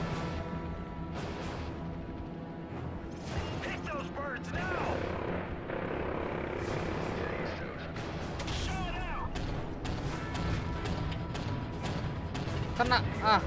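A helicopter in the Call of Duty Modern Warfare 3 mission Iron Lady drones steadily through dense game combat, buried under bursts of gunfire, crashes and explosions, with a voice talking over the mix.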